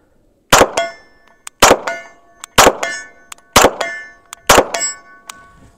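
Five quick Glock 34 pistol shots with an upgraded trigger, each followed by the clang of a hit on steel targets 50 yards away, loud sharp cracks and bright ringing in an even rhythm.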